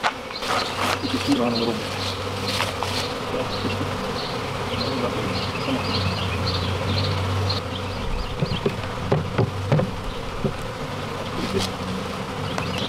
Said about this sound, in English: There's just too many bees.